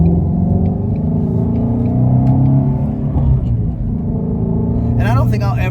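Deep, rumbling engine note from a sports car, a flat-plane-crank Shelby GT350 Mustang or a C8 Z06 Corvette, droning steadily up close before a short rising rev near the end, with speech over it.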